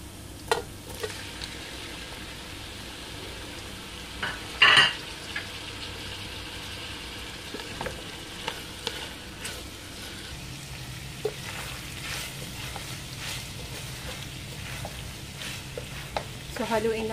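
Pork innards sautéing in a pot for papaitan, a steady low sizzle with scattered stirring clinks and one louder clatter, close and moderately quiet.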